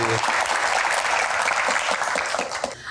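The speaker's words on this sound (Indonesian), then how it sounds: "tepuk tangannya buat Pak Arsyad" Audience applause for a guest at a business and politics Q&A event, a loud, dense burst of clapping from a crowd that fades slightly at the end.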